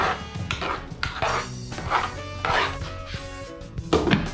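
Egusi soup being stirred in a pot, with a spoon knocking and scraping against the metal in a string of uneven, close clatters and thuds.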